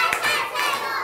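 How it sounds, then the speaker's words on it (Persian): Children in a classroom doing a pattering rain-style clap, a soft, fast, scattered patter of small hands with a voice briefly mixed in. "یه تشویق بارونی دوستتون رو بکنی."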